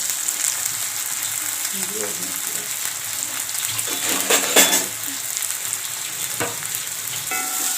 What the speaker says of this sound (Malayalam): വലിയ ഉള്ളി അരിഞ്ഞത് ഇട്ടിട്ടുണ്ട് അത് നമുക്കൊന്ന് വയറ്റി എടുക്കണം